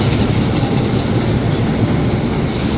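Train moving through Lisbon Oriente station, a close, steady loud rumble of rolling wagons with faint rhythmic clatter and no talk.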